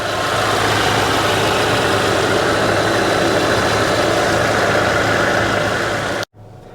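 A Mercedes-AMG CLA 35's turbocharged four-cylinder engine idles with a steady, even hum and rumble, close and constant for about six seconds before cutting out abruptly.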